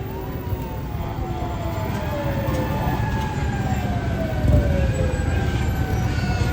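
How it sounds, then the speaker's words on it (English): Fire engine and emergency vehicle sirens wail in long rising and falling sweeps at an Independence Day parade in Blue Island, loud and continuous with a low engine rumble underneath. "So glad I caught all these emergency vehicles on camera."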